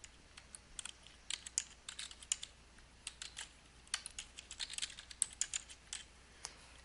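Quiet keystrokes on a computer keyboard come in short irregular bursts as a file name is entered, with pauses between groups of taps and no talking.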